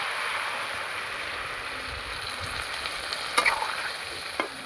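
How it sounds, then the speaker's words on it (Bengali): A pan of vegetable stalks for a Bengali pui shak and prawn dish gives a steady, close hissing sizzle throughout after a little water goes in, with a couple of brief clinks near the end. "এবার আমি এখানে দিয়ে দেবো একটু জল ডাঁটাটা সেদ্ধ হওয়ার জন্য।"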